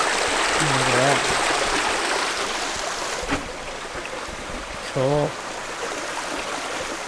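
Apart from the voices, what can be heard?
running water stream in woods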